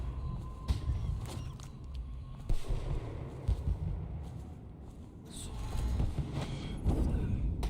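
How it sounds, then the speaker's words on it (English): Fireworks bursting in the video game Dishonored, a string of sharp booming explosions and crackles at irregular intervals, some close and loud, others distant, with rumbling tails between them. "That's a lot of fireworks."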